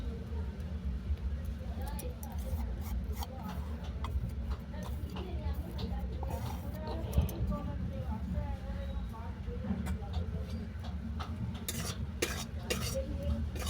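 Flour being dry-roasted in a wok for coconut puris, stirred steadily with a utensil that scrapes and clinks against the metal in quick irregular taps, under a low kitchen hum.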